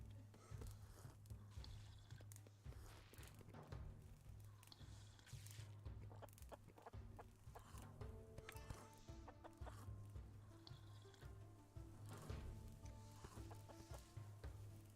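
Chickens cluck and scratch around in the colony-building game Clanfolk, a faint, busy stream of scattered clucks over a steady low hum, continuing throughout with no speech.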